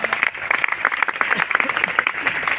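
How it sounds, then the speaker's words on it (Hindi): An audience in a hall claps energetically, with loud individual hand strikes standing out over a dense crowd clatter that continues unbroken. "थैंक यू, जबरदस्त तालियां"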